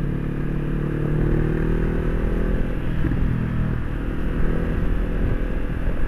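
Honda CB500X motorcycle on a test ride, its engine a steady, close low rumble with harmonic drone and a rising then settling pitch as it accelerates, wind and road noise mixed in throughout.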